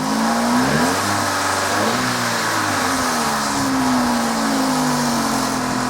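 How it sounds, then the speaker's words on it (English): A Vauxhall Corsa engine with timing-chain knocking revs up and settles, its pitch rising and falling steadily in a close, continuous drone with no talking. "when I rev it and lift the revs up, the knocking stops on the chain"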